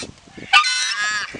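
A nesting goose honks once, loud and close, with a harsh, drawn-out call lasting most of a second, while a person makes brief sounds just before it.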